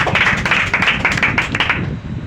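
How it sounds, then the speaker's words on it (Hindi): An audience claps for a teacher in a class, with dense, fast applause that stays close and loud for about two seconds before tapering slightly. "ताली मारने के लिए धन्यवाद देते हैं"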